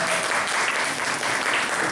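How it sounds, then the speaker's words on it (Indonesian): Dense applause from an audience at a Malang event backing tempe Sanan craftsmen, a steady wash of many hands clapping close and loud throughout, with no break. "tepuk tangan untuk itu"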